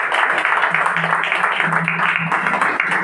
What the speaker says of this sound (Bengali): আমরা ঈশ্বরের জন্য একটা জোরে হাততালি দিতে পারি